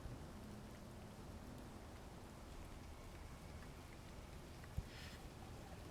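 Rain falls on a planet's surface in the game Space Engineers, a soft, steady hiss that stays faint and even throughout, with one brief click near the end.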